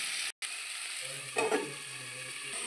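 Steady sizzle of spiny gourd and potato frying in a pan, with a brief stir partway through.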